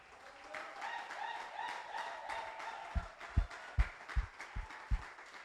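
A church congregation applauding in worship, a scattered patter of claps under sustained singing or music, with a series of deep booming drum-like thumps rising in the second half.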